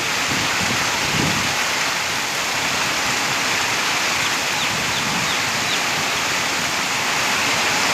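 Heavy rain pouring down steadily, a dense constant hiss that fills the whole stretch without letting up.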